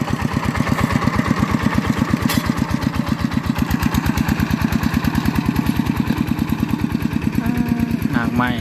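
A small walking tractor's engine chugs steadily close by in a hot rice field, its rapid, even single-cylinder thump running throughout while someone speaks over it near the end.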